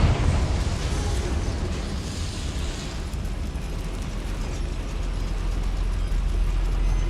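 Fiery spell blast in Hogwarts Legacy, a sustained roaring, rumbling burst that stays loud and dense throughout, with heavy low-end boom.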